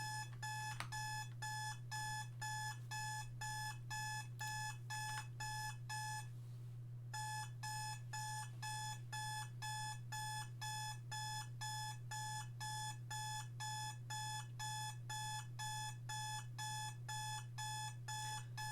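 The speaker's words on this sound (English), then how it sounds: "it sounds like the beeping is getting louder" A beeper in a video game beeps in fast, regular bursts over a steady low hum, pausing once briefly before resuming the same relentless pattern.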